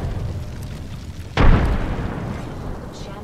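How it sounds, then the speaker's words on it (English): A frag grenade explodes in a multiplayer shooter video game, a single sudden, heavy boom that hits hard and then rumbles away over a couple of seconds against steady game background noise. "Frag grenade set."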